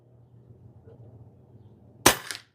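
A Pinty .22 caliber bullpup PCP pellet air gun fires one sharp, loud crack over a quiet outdoor hush, followed a moment later by a fainter secondary snap.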